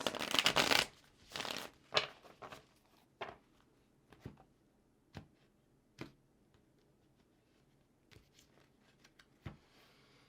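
Cards are shuffled in a quick riffle at the start, then a string of sharp, separate taps and slaps as cards are handled and set down, with no talking.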